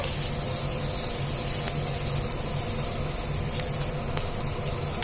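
Tempering seeds, urad dal and peanuts sizzling in hot oil, a steady, dense hissing sizzle that holds evenly throughout at moderate loudness, with no talking.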